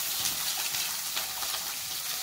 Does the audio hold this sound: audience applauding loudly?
no